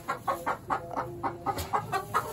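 Several egg-laying hens clucking in a backyard coop, a rhythmic series of short repeated clucks, close and clear over faint background noise, with no talking.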